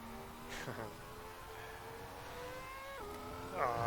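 A Ferrari F2004 Formula 1 car's V10 engine whines high, rising steadily through the revs toward 18,000 rpm, then drops and climbs again, thin and distant, as if heard from trackside.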